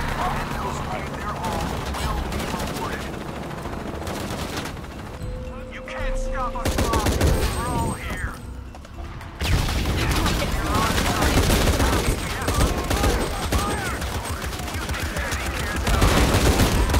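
Repeated gunfire in Shadow of the Tomb Raider, loud rapid bursts and fusillades running almost continuously, with a voice talking over the shooting.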